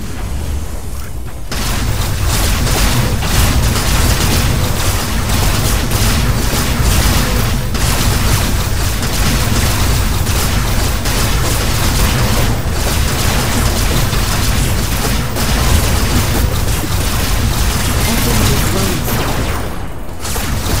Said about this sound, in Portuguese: Vou meter tiro nele.